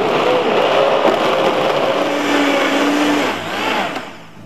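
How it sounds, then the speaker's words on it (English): Vitamix blender blending a green smoothie, a loud continuous motor roar whose pitch shifts as the speed changes, then slowing and fading out near the end. "So I'm gonna blend it up here in a Vitamix."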